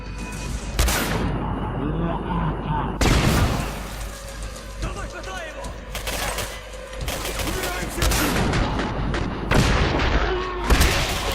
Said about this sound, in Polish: Czemu to wybucha od razu?